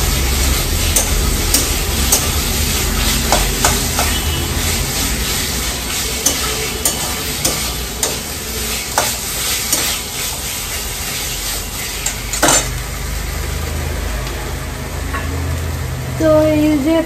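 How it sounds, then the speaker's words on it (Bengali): A loud, dense sizzle of onion, ginger and garlic paste frying with small crabs, steady throughout, with frequent scraping and clicking stirs against the pan close by and no voices. "পেঁয়াজ আদা রসুনটা ভাজা ভাজা হওয়ার পরে কাঁকড়াগুলো দিয়ে দিলাম"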